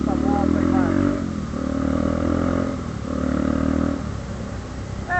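Honda Hornet motorcycle revved hard, throbbing in loud surges that swell and ease several times at close range, with voices talking over it.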